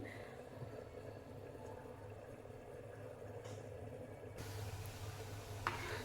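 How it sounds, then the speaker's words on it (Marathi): Kadhi, a curry made without turmeric, onion or garlic, boils in a pot on a home kitchen stove. It makes a faint, steady low bubbling and hiss that runs without a break and swells slightly near the end. "कढी आता चांगली उकळलेली आहे"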